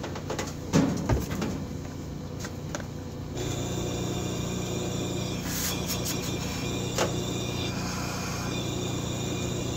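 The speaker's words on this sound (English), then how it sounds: "I think the air rushing out of it is making more noise than the pump itself" A newly unboxed aquarium air pump starts up after a few handling knocks, settling into a steady close hum with air hissing out of its outlet.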